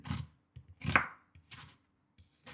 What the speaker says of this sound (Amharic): ሽንኩርት አከታተፍ ግን